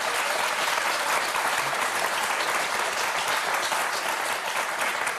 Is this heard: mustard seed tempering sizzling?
no